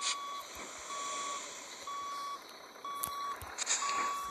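Steady repeating reversing beeps from a truck in the Grand Truck Simulator video game, evenly spaced and continuous over low engine rumble, with a few clicks layered on top.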